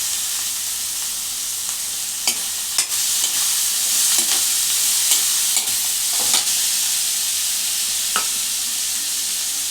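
Boiled cluster beans fry in a pan with turmeric, a loud steady sizzle punctuated by repeated sharp clinks and scrapes of a spoon as they are stirred.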